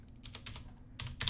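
Keys clack on a computer keyboard while entering a command, a handful of quiet, close keystrokes in an irregular rhythm over a faint steady hum, with no talking.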